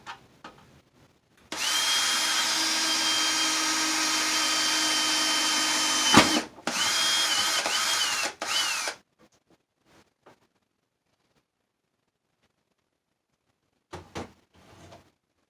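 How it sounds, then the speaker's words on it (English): An electric drill whines loudly for several seconds, pauses briefly, then runs again before stopping; quiet clicks and taps follow. "Okay, so we'll drill our hole right here."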